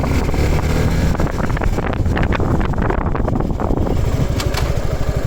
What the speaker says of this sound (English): So I'll just rev it up and